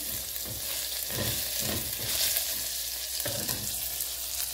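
Minced garlic fries in oil for a Brazilian chicken stroganoff, producing a continuous close sizzle with a few soft stirring scrapes rising and falling through the bubbling.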